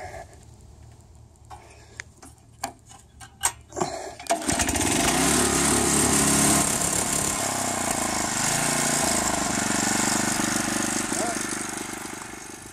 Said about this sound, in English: Rototill this in and level out a little more.